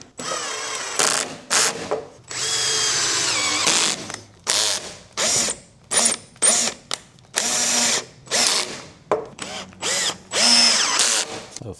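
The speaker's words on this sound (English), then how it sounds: "You're probably just hearing this drill right in this microphone." An electric drill used while installing LED brake and turn signal lights on a 1992 Subaru Sambar fires in a long string of short, loud bursts close to the microphone, with brief silences between each run.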